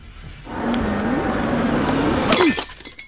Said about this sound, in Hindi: गाड़ी का शीशा भी तोड़ दिया